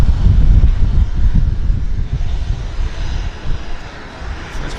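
A Porter Airlines Q400 turboprop at an airport taxies and rolls for takeoff, its engines giving a loud, steady low rumble with wind buffeting the microphone, easing slightly toward the end.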